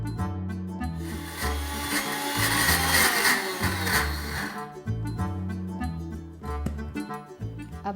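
Mixer grinder grinding soaked urad dal, a loud, steady whirring motor with rough, gritty churning that surges and then settles back to a lower drone, with no talking.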